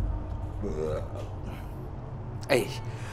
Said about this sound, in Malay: Kejap, sedawa.